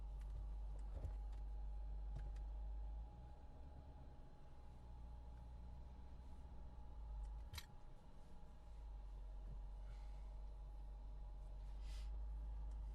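A car drives over a bridge across a canal, its steady low road rumble and engine hum continuing throughout with slight swells, heard from inside the cabin with no talking.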